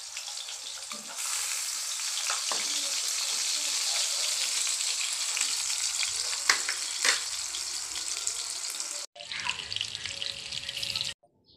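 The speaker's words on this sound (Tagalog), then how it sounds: "Yan, ipiprito ko na siya." Skinless longganisa sausages fry in hot oil with a loud, steady sizzle and crackle, dotted with sharper pops and spatters, cutting off briefly near the end before the sizzling resumes.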